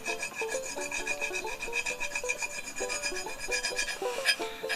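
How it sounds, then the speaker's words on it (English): A penny rubs rust off a Damascus double-barrel shotgun barrel in quick, rhythmic rasping strokes, close and fairly quiet, with no talk. "So the penny is taking rust off, and it isn't scratching or ruining the grain in that."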